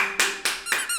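Four sharp hand claps in a quick, slightly uneven rhythm, close and crisp, with a faint squeaky tone riding over them.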